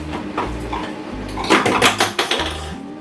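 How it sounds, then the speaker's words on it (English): Biscuit crumbs, crushed Lotus Biscoff for a caramel slice base, tipped into a kitchen bowl, giving a clattering, rattling pour with clinks against the bowl, busiest in the second half, over a low background hum. "I'm going to empty my dust crumbs into a bowl"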